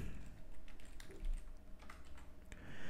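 Keys clatter on a computer keyboard as a password is entered, a quick irregular run of close, light clicks lasting a few seconds in a quiet room.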